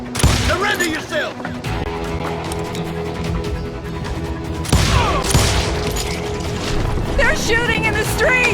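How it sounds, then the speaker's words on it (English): Gunfire crackles through a street shootout in the Western game Call of Juarez Gunslinger, with dense repeated shots, a sharp burst near the start and another midway, all under game music and voices. "They're shooting in the street!"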